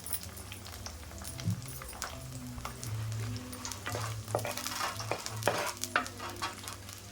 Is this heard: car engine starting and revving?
no